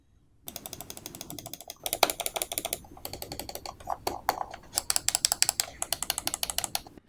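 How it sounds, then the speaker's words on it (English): A SteelSeries Rival 3 mouse scroll wheel is turned through its notches, producing rapid close ratcheting clicks in bursts with brief pauses between spins. "Scroll wheel itself is nice and easy to rotate. There's no free scroll in here. There's certainly some notches"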